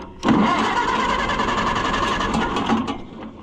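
Starter cranking an Oliver Super 55 tractor engine that fails to catch, a loud close continuous churning drone lasting about three seconds before cutting off, no talking.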